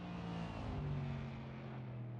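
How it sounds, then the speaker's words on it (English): Video game car engine blended with Audi RS6 intake noise, a faint steady humming drone with a slight pitch rise midway, heard alone. "And then also we have an intake noise from an RS6."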